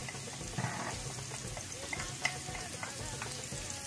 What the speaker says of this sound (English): Once our oil is hot, we're gonna put the onions.